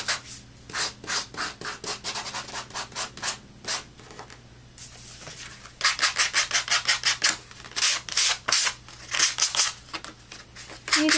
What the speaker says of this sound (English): what I'm going to do is just sand lightly around the edges